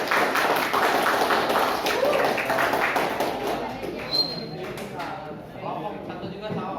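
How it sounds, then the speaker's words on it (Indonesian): A classroom of students clapping loudly for a student group, a busy patter of many hands under talking voices, gradually thinning out toward the end. "Tepuk tangan semuanya yang keras"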